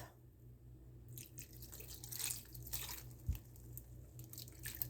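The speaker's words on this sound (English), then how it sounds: "All right, so now I'm going to add the beef broth." Beef broth poured into a pot roast gives a soft, steady wash of liquid with faint dripping that starts a moment in and keeps going, quiet and close.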